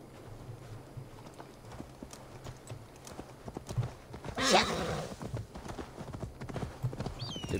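Steady clip-clop of horse hooves with a short loud neigh in the middle, from Assassin's Creed Valhalla gameplay, clean, with faint background sounds.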